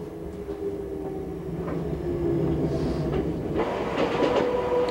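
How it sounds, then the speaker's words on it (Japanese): An Enoden 2000 series electric train, in service since 1990, rolls steadily along with a continuous low rumble and wheel noise, heard from on board with rhythmic clatter building slightly toward the end. "電車は平成2年から運行した2000型です。"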